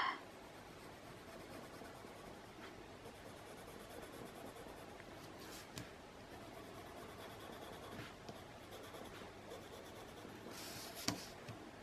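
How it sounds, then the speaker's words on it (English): White pencil scratching and gliding across paper in steady, close strokes, quiet and continuous with a few sharper taps. "Let's see what the white pencil does."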